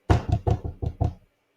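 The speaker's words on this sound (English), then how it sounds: "I get a knock on my door." Six quick knocks rap on a door early in the morning, firm and close, in an even rhythm that stops after about a second, followed by silence.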